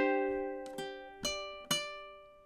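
Ukulele picking out measure 10 of a song: a ringing chord followed by three plucked notes at an even pace, each sustaining and fading, quiet and close with no voice.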